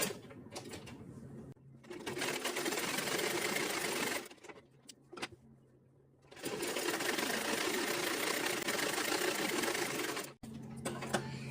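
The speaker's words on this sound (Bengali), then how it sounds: "এখন এই পাশটাকে আমরা সেলাই করে নেব।" A sewing machine runs in long bursts stitching the waist seam of a salwar, with short pauses between runs and a final stretch after a brief stop.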